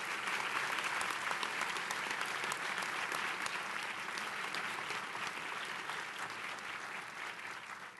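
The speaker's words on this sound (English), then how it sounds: "let's give a round of applause for everybody who competed" Continuous applause from a graduation awards audience for the competitors, dense and even throughout, easing slightly toward the close.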